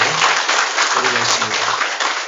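A church congregation applauding in praise during a Korean worship service, a dense, steady burst of clapping filling the room, with faint low voices murmuring beneath.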